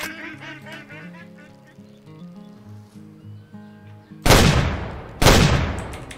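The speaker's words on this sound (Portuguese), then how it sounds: "Aqui é o ganso bravo. Tem ganso aqui do lado, ó." Greylag geese in the hunting game Way of the Hunter give a series of overlapping honks, followed by two loud, sharp gunshots about a second apart.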